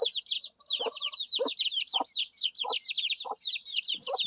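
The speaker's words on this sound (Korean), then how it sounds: "요새 이렇게 병아리를 이렇게 깠는데 아주 시끄럽네요" Newly hatched chicks chirp noisily and without pause, a dense flock of high peeping calls close by, with a few low clucks from a hen underneath.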